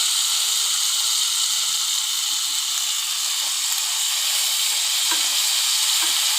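Garlic paste frying with onions in a pan makes a loud, dense, continuous sizzle that holds steady throughout, with a faint clink of a utensil near the end.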